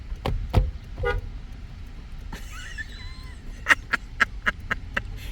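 A car horn toots several times in quick succession, short close honks following some earlier louder knocks and engine noise.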